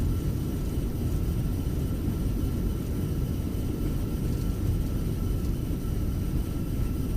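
An Airbus A320 in a flight simulator roars under reverse thrust on landing, a loud, steady, broadband rumble that stays constant throughout with no voices over it.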